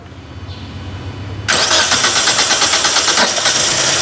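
A Proton Wira car engine is started with the key. There is a low idle-like hum at first, then an abrupt loud catch at about a third of the way in, followed by a rough, steady running engine.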